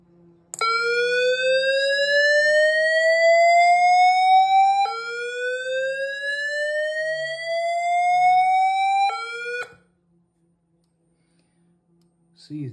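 A fire alarm sounding from a Siemens FireFinder XLS panel: loud repeating electronic whoop sweeps rising in pitch, two long cycles then cut off into silence, with a faint background hum.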